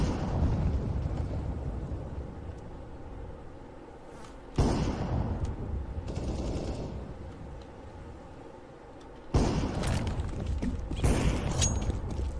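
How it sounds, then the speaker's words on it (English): Grenade blasts go off in a CS:GO match, two sharp, loud explosions several seconds apart over a low game rumble, each followed by a brief decaying roar. "Throwing a grenade."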